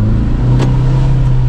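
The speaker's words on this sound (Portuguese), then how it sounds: "o carro faz um barulho muito alto" A car's engine revs hard as the driver over-accelerates while pulling away on the clutch, a loud, steady low drone that holds through the whole moment with no talking.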